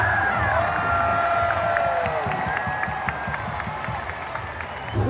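Thai football supporters in a packed stadium applaud and cheer during a match. A steady wash of clapping and crowd roar carries whistles and shouts, and voices can be heard faintly within the din.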